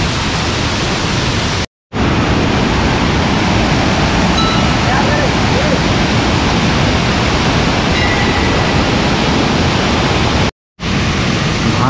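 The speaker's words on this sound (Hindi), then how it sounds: "कितना तेज पानी का फ्लो है।" Jatmai waterfall in Gariyaband in flood, with fast-flowing water making a loud, dense, unbroken roar that fills the whole clip apart from two brief dropouts.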